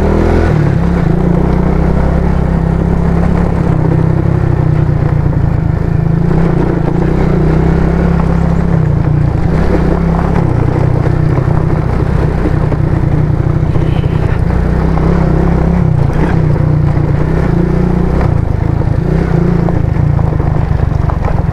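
A Rusi Korak 110 motorcycle engine drones steadily and loudly up close on a rough road for the whole stretch, with an uneven, bumpy rumble underneath.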